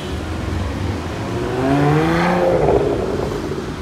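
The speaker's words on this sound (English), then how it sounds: "Owner giving it some revs there for me." In Cape Town, a sports car's owner revs the engine, which climbs in a few rising snarls close by over a low idle rumble.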